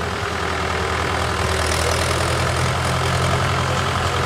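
A Mahindra 575 tractor engine runs in a farm field, a steady rumbling diesel drone with a rough low throb, loud and continuous with no voices.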